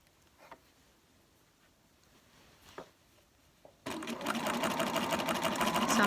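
A Bernina sewing machine stitches a narrow turned shirt hem with a hemming foot, starting after a few quiet seconds with small clicks, then running in a loud, steady, close mechanical whir to the end.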